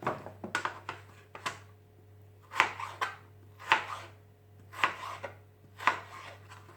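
Potatoes are cut into thick slices for homemade French fries, with a knife thudding on a board in irregular clusters of close, crisp chops and short pauses between them.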